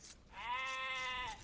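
A sheep in the video game Age of Empires II gives one clear, steady bleat lasting about a second, heard alone and close.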